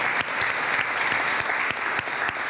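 A church congregation applauds loudly and steadily at the consecration of Mario Padilla in the church at Nacaome. Dense, continuous clapping fills the whole stretch, with a few sharper individual claps standing out.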